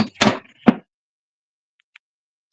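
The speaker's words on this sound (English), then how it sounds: "We close the door and we just turn the knob." A door shuts with a couple of quick knocking thuds, followed by faint small clicks of the knob turning, close and brief in an otherwise quiet room.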